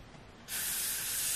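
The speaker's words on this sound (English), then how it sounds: "I'm using this Got To Be Glue Free spray" A close, loud, steady hiss of Got To Be Glue Free spray starts suddenly after a quiet moment and keeps going evenly for about a second, while a ball cap wig is being installed.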